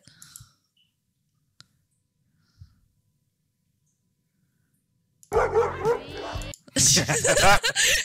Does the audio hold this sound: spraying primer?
no